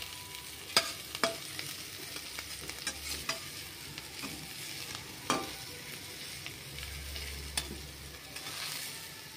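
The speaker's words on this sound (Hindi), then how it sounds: "अदरक हरी मिर्च हमारी भुन चुकी हैं" Ginger, green chillies and asafoetida frying in a pan for samosa filling, making a low steady sizzle with sharp spoon-on-pan taps scattered through, fairly quiet overall.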